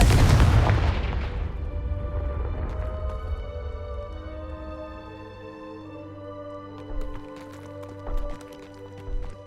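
Confringo spell explosions in Hogwarts Legacy, a loud booming blast at the start that fades into a ringing tail, followed by a few softer thumps later on.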